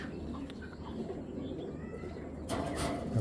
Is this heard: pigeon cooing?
yes